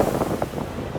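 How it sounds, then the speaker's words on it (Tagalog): Strong wind roars into a microphone outdoors in cold, blustery conditions, a constant close buffeting rumble with gusty surges and no speech. "masyadong mahangin."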